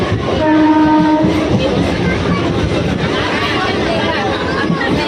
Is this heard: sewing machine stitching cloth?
no